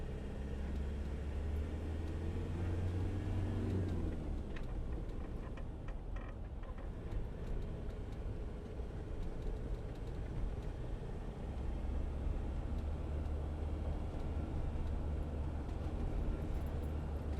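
A 2014 Land Rover Defender 90 2.2 TDCi diesel hard top drives in fifth gear, giving a steady low engine drone under constant road rumble from inside the cab, with a slight shift in pitch partway through.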